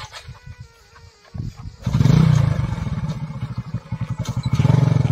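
A motorcycle engine catches after a few quiet knocks, then idles and revs in a loud, throbbing roar close by on a rural Bangladeshi village road.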